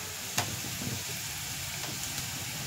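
Ghugni ingredients fry in oil in a pan, giving a steady, soft sizzle close by with a couple of faint utensil clicks.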